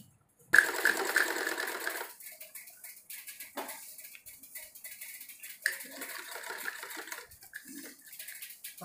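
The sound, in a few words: sewing machine joining belt to salwar pleats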